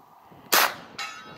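A gunshot from a CMMG MKG or CZ Scorpion is followed by a sharp metallic clang as the round strikes a steel target, then a second fainter ringing ping.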